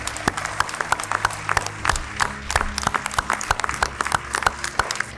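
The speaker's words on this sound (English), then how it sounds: "Can you put your hands together like you lost your mind and let's give this family a round of applause." An audience claps for a family at an unveiling ceremony: individual sharp claps stand out within a looser round of applause, with a low sustained hum underneath and no speech.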